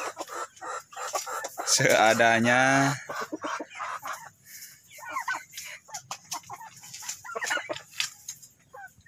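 Ayam Cemani chickens cluck and a rooster crows loudly near the start, followed by softer clucking and scattered bird calls, with a voice speaking briefly.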